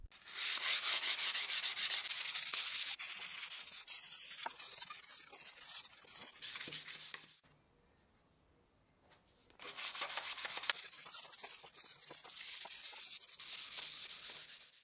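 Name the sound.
hand sanding wood with 220 and 320 grit sandpaper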